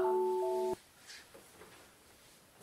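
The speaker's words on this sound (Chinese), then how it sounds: "看见没有，石头打电话呢" A telephone rings once with an incoming call, a short steady electronic tone that stops abruptly, followed by quiet room sound.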